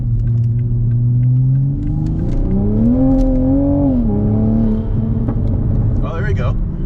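A Toyota Supra engine hums at a steady pitch, climbs through a rev and eases back down, with a brief crackling burst close to the end.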